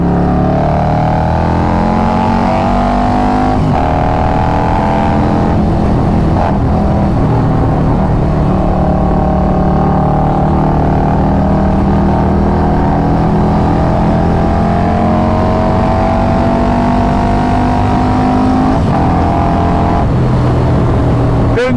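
A loud, close Harley-Davidson Road Glide motorcycle engine rumbles continuously, rising and falling in pitch as it revs, with a deep throbbing low end throughout.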